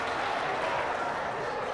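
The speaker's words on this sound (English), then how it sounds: "Brings a roar into this Mesivta crowd" A basketball crowd at a high school tournament game roars steadily after an and-one score, a dense, sustained wash of cheering and voices with light clapping throughout.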